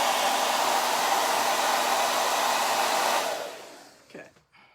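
A hair dryer on its cool setting blows steadily with a loud, even whoosh for about three seconds, then switches off and winds down, leaving a few faint handling noises.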